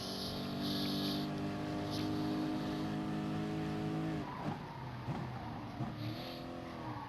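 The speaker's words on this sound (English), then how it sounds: "Braking for the corner." A Gran Turismo GR3 race car howls at high revs, then the engine note drops sharply as it brakes into a corner, followed by lower rumbling and gear changes, loud and continuous with no talking.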